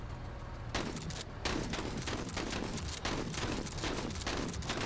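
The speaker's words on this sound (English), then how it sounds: "And you're gonna open fire again." Gunfire in the tactical video game Menace comes as loud, dense volleys of shots, with bursts rolling one after another with little pause.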